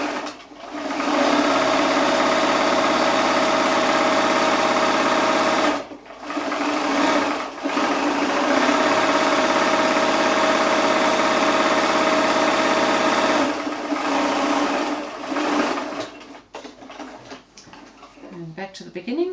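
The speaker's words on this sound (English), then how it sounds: "so I do this extra row of stitching just very close to the top folded edge now" A sewing machine runs a long row of stitching close to a folded fabric edge on a fat-quarter pocket bag, a loud steady whirring broken by brief pauses, with a voice talking over it.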